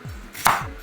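A knife chops through the ends of a peeled cucumber on a cutting board, one crisp close cut standing out in an otherwise quiet moment.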